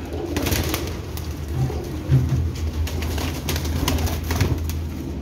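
Pigeons coo repeatedly in a loft in Jhelum, soft low throaty calls close by over a steady background hum, with no talking.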